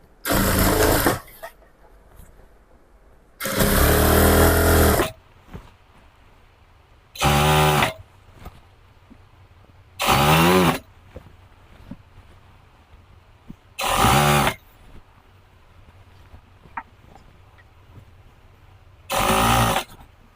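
Sewing machine stitching straight along the bottom hem of a pair of pants, running in six separate bursts of one to two seconds each with quiet pauses between them.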